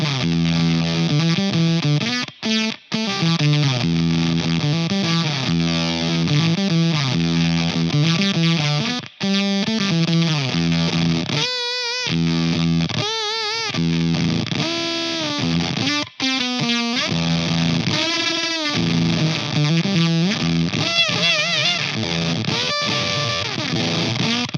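An electric guitar is played through an Anasounds Feed Me MK3 fuzz pedal, giving thick, saturated, bass-heavy chords and sustained notes with short pauses, loud and steady with no voices.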